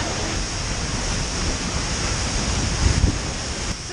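A waterfall pours down hard, a dense, steady roar of crashing water heard close up with no voices.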